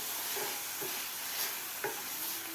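A methi dish being mixed with crushed peanuts in a pan, a soft steady sizzle with a few light scraping stirs, fairly quiet throughout.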